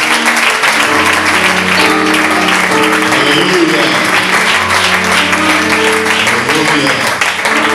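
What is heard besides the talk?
congregation applause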